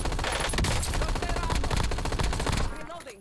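Dense rapid gunfire from a video game, Peacekeeper MK1 automatic fire crackling continuously for about three seconds before tapering off near the end.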